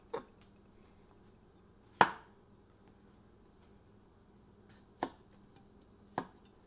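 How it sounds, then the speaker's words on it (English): A kitchen knife chops through a cucumber onto a cutting board in four crisp, close strikes with long pauses between them, while making smashed cucumbers; no one speaks. "Cut off the little tips that we're not going to eat."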